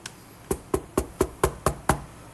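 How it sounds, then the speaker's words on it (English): Knuckles rap a wooden desk eight times in an even, steady rhythm, each knock sharp and close with no talk. "Just love knocking on that damn desk"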